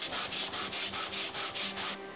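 Gold foil on leather being rubbed back and forth to test wear, a steady scratchy swishing in about nine even strokes, close and fairly loud, stopping abruptly near the end; no talking.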